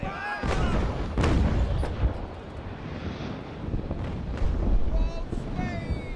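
Video game cannons fire in a series of heavy booms, several close blasts spaced irregularly over a dense, noisy battle background.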